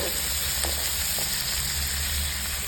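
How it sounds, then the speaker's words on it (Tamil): Onion and pirandai (adamant creeper) sauté in oil with a dense, constant sizzle, close and loud, broken by a couple of faint stirring scrapes. A low hum runs beneath it. "இதுவும் பெரண்டையும் வதங்கிட்டே இருக்கு பாருங்க"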